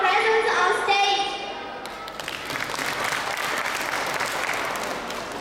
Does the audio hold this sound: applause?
yes